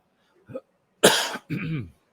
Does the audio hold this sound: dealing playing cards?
no